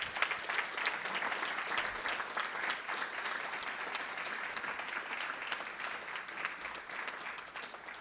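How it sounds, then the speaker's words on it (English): Sustained applause from an audience at an evening gathering, many hands clapping steadily for several seconds at moderate distance, with no talk over it. "Give her another round of applause."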